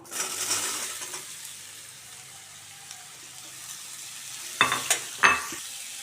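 Raw mango pieces are stirred in a pan over low heat for mango pickle, with a soft sizzle fading to a quiet simmer and a few sharp scraping clinks from the spoon near the end.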